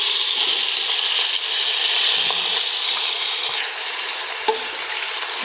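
Meat for a Peshawari handi frying in a pot: a steady, loud, close sizzle with some stirring scrapes, no talking.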